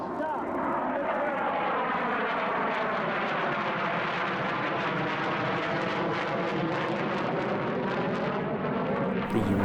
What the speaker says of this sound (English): Aircraft representing all 3 of the US strategic bombers took part.